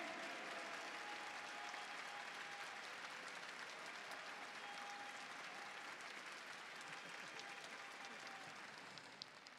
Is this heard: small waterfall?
no